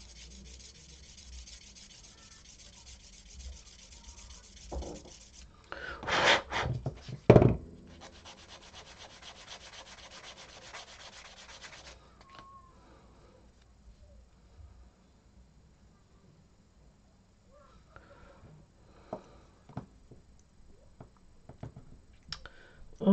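A small plastic part from a Koto White Tiger model kit is trimmed and sanded in a quiet room, with steady rasping strokes, a few clicks and brief scraping bursts that taper into scattered light taps.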